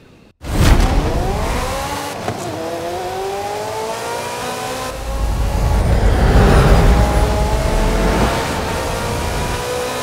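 A Ferrari F40 in the video game Forza Horizon 5 starts up and drives hard, its engine climbing through revs with gear shifts, loud and close, then surging again with heavier roar.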